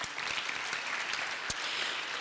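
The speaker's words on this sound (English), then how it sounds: "A round of applause for him." Audience applause at a ferry launch event, a brief, continuous wash of clapping from a crowd, steady and moderately loud with a few sharper individual claps standing out.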